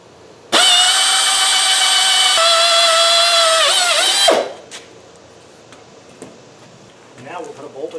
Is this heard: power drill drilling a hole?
yes